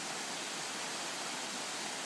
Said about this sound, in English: this weir will be dropping water down there at exactly that rate